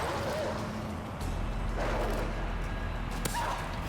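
Attack dog in the video game Call of Duty Modern Warfare 3, a few sharp barks and yelps heard among game noise and distant rumbling.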